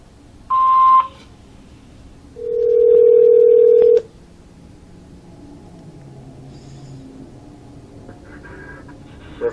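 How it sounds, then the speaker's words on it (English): An answering machine beep: a single steady electronic tone sounds for about one and a half seconds after a shorter higher blip, then quiet room noise follows. "Please leave your name and phone number after the beep."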